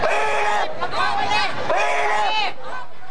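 Emotional crowd of anti-communist demonstrators surrounded by police in Westminster, 1999, a dense babble of many voices with raised, chant-like calls rising and falling close by.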